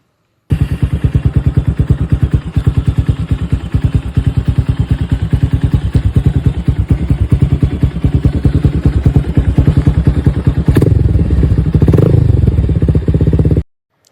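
Motorbike ride through a hometown area, with a steady engine drone and road rumble running continuously at close range for about thirteen seconds, swelling a little louder near the end.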